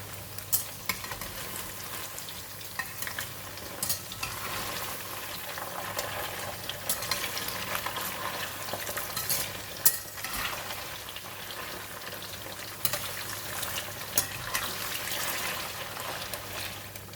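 Tofu pieces frying in oil in a pan for a bean sprout stir fry, a steady crackling sizzle with scattered pops and a low hum beneath, continuing without talk.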